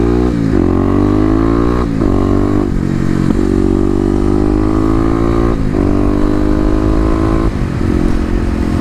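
A 2018 Kawasaki KLX250 with Stage 1 mods revs hard while being ridden, its loud, close engine note climbing in pitch through several gear shifts, each marked by a brief dip before pulling up again.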